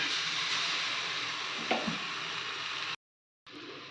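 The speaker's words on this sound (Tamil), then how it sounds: "நடுவில் நல்லெண்ணெய் ஊற்றிக்கலாம் கொஞ்சமாக ரெண்டு முட்டையை நடுவில் ஊற்றிக்கலாம்" Two eggs fry in a little sesame oil poured into the middle of a pan of greens, giving a steady bright sizzle with a faint stirring scrape, then a brief silence before the sizzle resumes.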